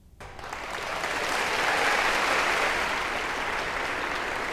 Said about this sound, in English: please join me in giving these outstanding finalists a round of applause.